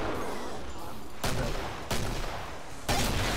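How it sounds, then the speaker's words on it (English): Gunfire and weapon handling in the co-op shooter Killing Floor, with bursts of shots breaking out at steady intervals over continuous game noise and no clear talking. "Give me a sec, I'm reloading."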